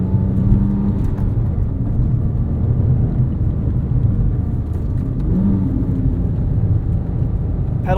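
A Porsche 911 GT3 997.1 with its 3.6 engine drives on canyon roads, a loud, steady engine drone and whir heard from inside the car, holding an even pitch throughout.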